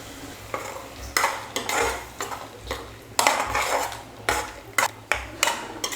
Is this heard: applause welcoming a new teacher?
no